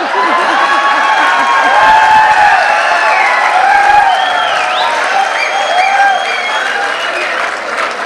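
Audience applause at a Hindi comic poetry gathering (kavi sammelan), a loud dense roar of clapping from a large crowd that holds steady for several seconds and tapers slightly at the end.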